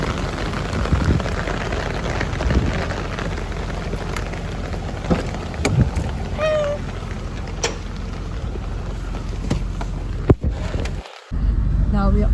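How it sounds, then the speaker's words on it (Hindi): Heavy rain pours steadily in Noida, a dense constant hiss with scattered clicks and knocks, likely from umbrellas, over the full length of the clip, and voices briefly audible in the background. "बहुत बारिश हो रही है"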